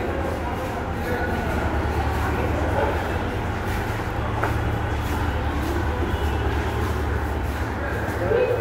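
Steady, dense rumble of a Kolkata Metro station as a train stands at the platform, with a constant wash of crowd murmur and voices layered over the low hum.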